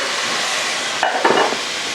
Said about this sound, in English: I'm sure you can hear it sizzling